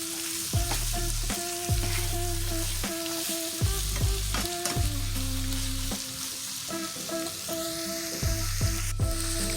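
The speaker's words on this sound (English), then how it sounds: "We're going to let that saute and with the onion and garlic for about 3 to 4 minutes." Onion and garlic sautéing in a pan: a continuous close sizzle broken by regular stirring scrapes, with a low mechanical hum underneath and repeated faint tonal beeps.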